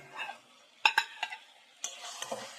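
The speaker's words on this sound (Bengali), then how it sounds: "দিয়ে একটু নাড়াচাড়া করছি" A spatula stirs a sugared spice masala frying for a snake gourd curry in a pan, giving a few sharp scrapes and clinks over a soft, low sizzle, close and fairly quiet.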